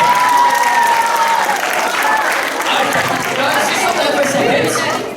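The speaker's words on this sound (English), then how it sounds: "And let's give Jerome a round of applause" Students at a school house science quiz break into loud applause that tapers slightly, mixed with background chatter and a few voices talking through the clapping.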